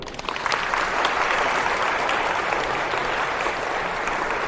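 A church congregation at a parish gathering claps loudly together to thank the Lord, a dense, steady roar of applause that swells quickly and holds strong to the end.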